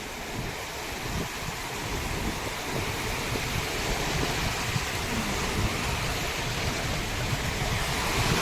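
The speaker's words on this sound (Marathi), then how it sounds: "आणि लाटा बघा कसल्या येतात" Ocean surf rolls in steadily at Juhu beach in Mumbai, a continuous broadband wash of breaking waves with wind across the microphone and no talk.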